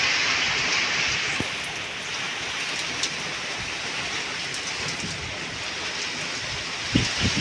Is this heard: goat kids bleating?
no